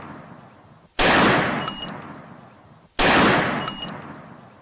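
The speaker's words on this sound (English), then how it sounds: "This is a sound of a gunshot." Recorded gunshots play during a safety presentation: two loud, sharp blasts about two seconds apart, each trailing off in a long, fading echo.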